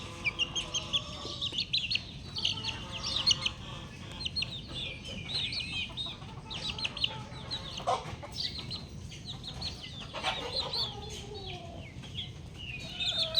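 White Kelso gamefowl chickens kept with their eggs cluck and chatter continuously and fairly close by, with overlapping calls throughout and no talking.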